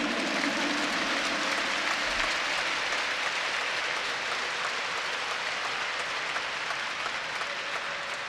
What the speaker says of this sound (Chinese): 我们用最热情、最热烈的掌声，一起来欢迎魏玉红老师